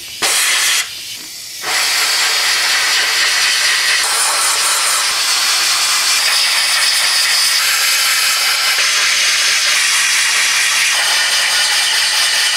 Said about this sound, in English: then you want to apply compressed air one last time, and then they should be clean after that